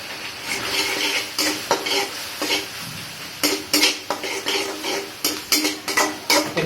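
Chicken is stirred with meat masala in a pan for chicken chilli sauce, with repeated rhythmic scrapes and clanks of a utensil against metal over a low sizzle, close and loud, and no voices.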